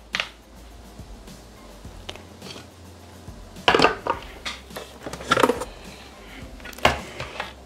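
Cooked vegetables tip into a large bowl, with scattered clinks and knocks of utensils against the dish and a few louder scraping clatters in the middle and near the end. No one speaks.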